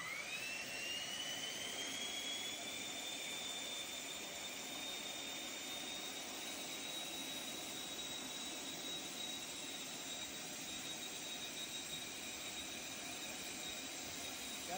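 Drone motor spinning steadily at about 40% throttle, a continuous loud whine with a rising pitch that levels off and holds for the whole stretch, with broadband rushing noise underneath.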